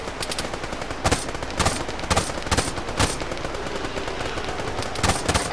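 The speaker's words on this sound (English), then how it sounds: "Taking shots from northwest?" Bursts of automatic gunfire in a military shooter video game, loud rapid volleys recurring every half second or so over a steady background of battle noise, with no talk during the shots.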